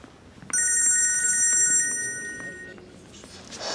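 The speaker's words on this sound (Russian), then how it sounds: "Наташа, я же просил тебя не звонить" An indoor telephone bell rings once in a single sustained electronic trill, loud and close, then fades into room noise.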